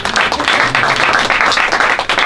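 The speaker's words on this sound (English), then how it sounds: "Let's have another round of applause for that" Audience applause at an awards event honoring socially conscious young filmmakers, a steady, dense clapping from a crowd that holds loud and continuous throughout with no pauses.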